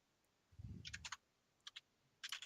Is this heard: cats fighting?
no